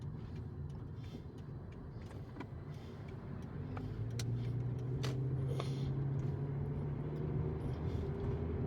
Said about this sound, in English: I got cars coming up beside me.